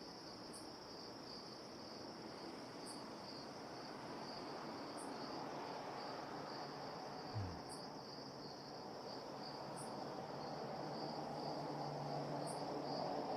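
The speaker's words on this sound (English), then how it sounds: "all you're hearing is crickets" Crickets chirp in a steady, continuous drone at the T.F. Green International Airport in Rhode Island, recreated in the Tower Simulator 3 game, with a low wind rumble beneath and no talking.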